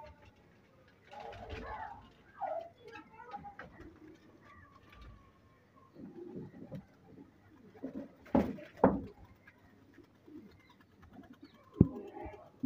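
Royal teddy pigeons cooing nearby, soft throaty coos in irregular bursts with faint rustling and a sharp knock or two in the background.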